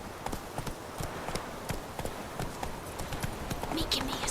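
Hooves of Roach the horse galloping in The Witcher 3, a quick repeated clip-clop rhythm under ambient game sound, with a voice speaking over it.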